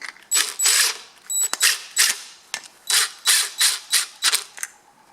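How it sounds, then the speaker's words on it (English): A bolt is tightened on a Tecumseh TC300 pull-start assembly of a Victa lawn trimmer, giving loud, close, repeated ratcheting clicks in short bursts with brief pauses and no talk. "tighten the bolt"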